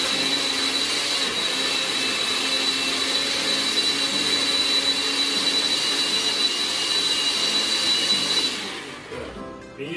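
A blender whirs steadily at high speed, loud and close, as it purees a leafy green smoothie made with almond milk. The motor hums constantly for several seconds, then winds down and stops near the end.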